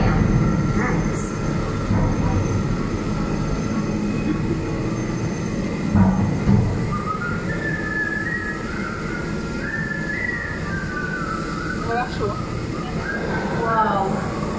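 A tram making a scheduled stop in the canyon at Disneyland Paris, with a steady rumble, squealing and whistling tones, and voices talking over the noise.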